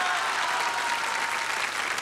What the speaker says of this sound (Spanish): aplausos para Buddy Richard